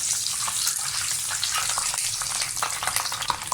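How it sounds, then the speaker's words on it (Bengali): Eggs dusted with turmeric sizzle steadily in a pan, a close, continuous crackling fry with faint stirring, no voices. "নিয়ে এবার এগুলোকে একটু ভালো করে আমি ভাজতে থাকবো"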